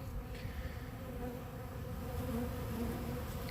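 Honeybees feeding on honey buzz steadily and close by, a dense, droning hum that swells slightly toward the end, with no voices.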